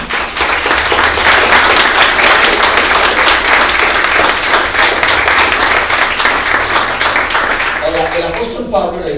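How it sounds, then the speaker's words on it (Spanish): A church congregation applauds together at a sermon by a pastor, loud sustained clapping from many hands with a voice rising in at the very end. "¿Cuánto le dan ese aplauso al Señor?"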